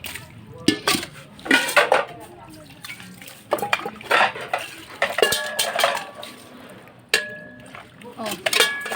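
A large metal cooking pot (kaldero) being scrubbed and washed, with clanking, scraping and splashing water in irregular bursts, close by.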